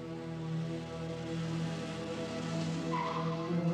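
A car drives up with its tyres skidding and squealing, a sustained whining screech over engine noise that swells toward the end, with no voices.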